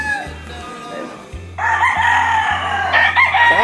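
A rooster crows loudly and close by, with other clucking fowl audible around the pen, alone without talk.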